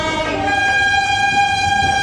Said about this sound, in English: we're on a train